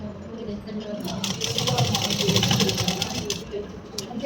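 A sewing machine top-stitching a pattupavadai blouse, a steady close mechanical whir with rapid needle clatter running throughout, with a voice talking over it.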